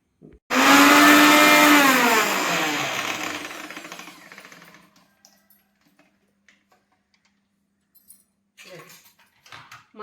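A mixer grinder grinding masala, loud whirring burst right at the start, winding down over several seconds to near silence with faint clicks and handling sounds after.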